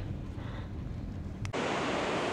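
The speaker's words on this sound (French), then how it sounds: "Regardez-moi ça. Superbe cascade." Rushing roar of a waterfall in a Norwegian fjord, a steady broadband wash that swells louder and closer after a brief break partway through, with no voices.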